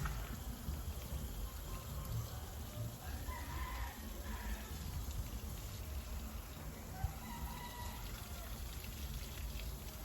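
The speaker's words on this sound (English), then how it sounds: "And I'm going to give it a really good soak. Oops, it's running over." Water is poured generously into a freshly planted container pot until it runs over, soaking down toward a layer of shell at the bottom; a steady, close wash of trickling and splashing continues throughout.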